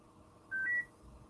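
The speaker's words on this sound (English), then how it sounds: "get rid of that annoying beep" A short electronic beep, two quick tones stepping slightly upward in pitch, sounds once over a quiet background hum, clear and a little harsh.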